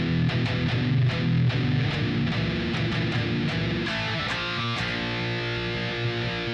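A crunchy distorted electric guitar plays rhythm chords from a song, broken by a quick burst of 16th-note picking, steady and loud throughout with no voice.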